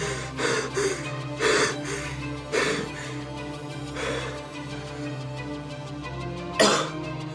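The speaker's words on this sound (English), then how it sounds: "Perry, you cough." A man coughs repeatedly over a steady low hum, in a series of rough, separate bursts spaced a second or so apart, with the last cough the loudest.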